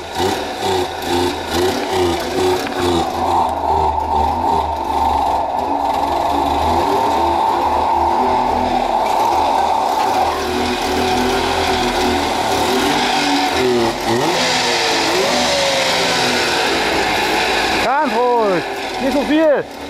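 A car engine in a speedshop workshop runs steadily near the microphone after sitting unused for a long time, with rising revs and sweeping pitch changes toward the end while people talk over it.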